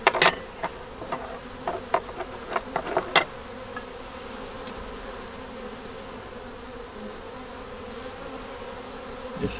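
Honey bees buzz around an opened deep nuc brood box holding four frames of eggs and brood. A steady hum runs throughout, and a few sharp knocks and clicks sound in the first three seconds.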